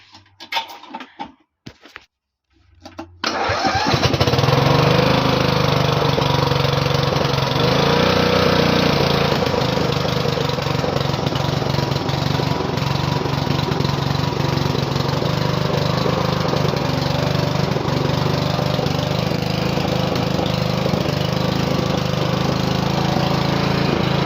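After a few sputtering attempts, a newly installed ride-on mower engine catches and roars into a loud, steady running drone that continues without a break.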